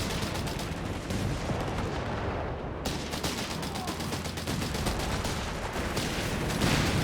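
Dense, continuous gunfire and artillery explosions from a Company of Heroes 3 battle, a relentless wall of overlapping shots and blasts filling the whole stretch at steady loudness.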